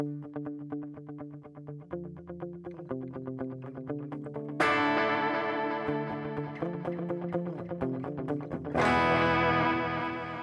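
Electric guitar played through the modulation effect of a NUX Core pedal, a shimmering, wavering tone over picked notes and chords, with two loud strummed chords ringing out and sustaining.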